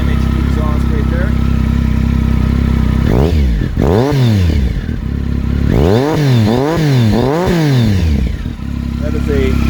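A 2002 Triumph Speed Triple 955i engine idles, then is blipped repeatedly, revving up and down in sharp bursts through a loud aftermarket MHP exhaust.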